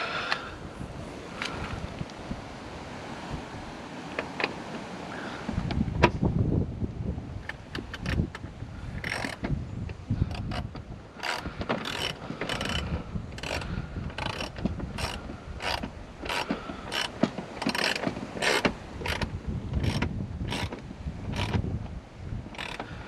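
A ratchet tightens a bolt securing the dashboard of a Mini Cooper S, a fast run of sharp metallic clicks at an even pace over low background noise.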